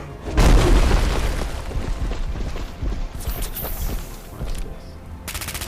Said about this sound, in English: Let's see the awesome power of this gun.